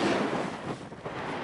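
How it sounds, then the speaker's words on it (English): Wind blows steadily across an exposed glen campsite on the Cape Wrath Trail in Scotland, a rough broadband rush buffeting the microphone for a moment. "It is quite windy at the moment and it's fairly exposed"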